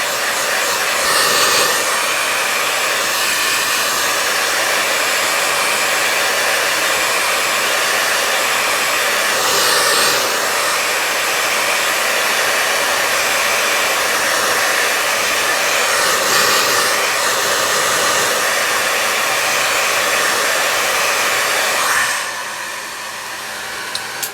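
A hair dryer blows over a small 5 by 7 inch watercolor painting to dry the paint, a loud, steady whooshing roar held close for over twenty seconds before it cuts off near the end.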